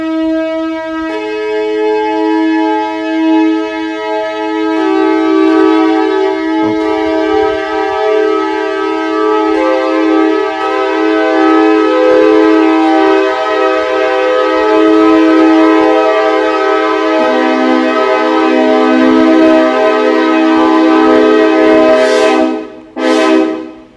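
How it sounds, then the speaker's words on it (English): A Nathan Airchime K6LA train horn sounds in one long, loud, sustained multi-note chord that holds steady, then fades and cuts off near the end, alone without talk. "this is supposed to be the sound of the Nathan Airchime K6LA"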